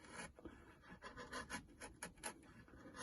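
A chisel pares thin shavings from a wooden bench hook along a saw cut, giving a series of soft, close scraping strokes in an irregular rhythm, faint and with no talking.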